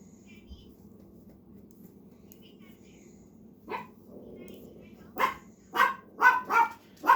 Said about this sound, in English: The dog's going nuts when she gets home